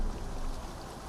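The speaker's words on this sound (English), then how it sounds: "What is that? Oh, waterfall?" Waterfall in the video game Arknights: Endfield, a soft, even rushing wash of water with no breaks, quiet and brief.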